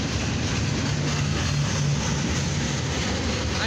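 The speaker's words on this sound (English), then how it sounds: "This is a northbound CSX coil train." Long northbound CSX coil freight train rolling past at milepost 1344 in Lima, Ohio, a steady, loud rumble of wheels and cars with a sustained low engine drone throughout, no voices.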